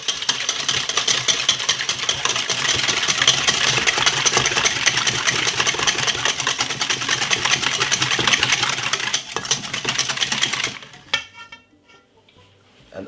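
Two eggs are whisked briskly in a bowl for a cinnamon sponge batter, a fast continuous rattling clatter that holds steady for about ten seconds, then stops, leaving a few faint knocks.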